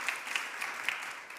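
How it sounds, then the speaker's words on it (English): Applause from an audience at a talk on self-advocacy, soft and somewhat distant, with scattered claps standing out over a continuous wash of clapping. "Round of applause."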